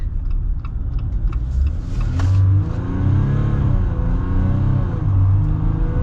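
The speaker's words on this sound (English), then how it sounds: "we'll get our full-blown acceleration with the Eco-Diesel" A 2021 Jeep Gladiator EcoDiesel pickup with an 8-speed automatic accelerates hard, its diesel engine rumbling loud and close, with the drone rising and settling through gear changes and no talk.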